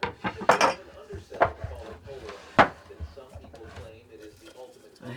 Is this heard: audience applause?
no